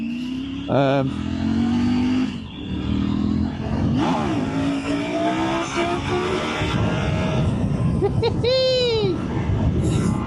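A Triumph Tiger 900 Rally triple-cylinder motorcycle engine revs and accelerates on an open road, rising and falling engine tones under wind rush, with a voice speaking over it in places.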